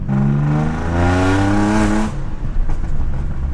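An Audi C5 Allroad engine revs hard with a loud, droning exhaust and a rising tone for about two seconds. It then drops back to a rough, rumbling idle.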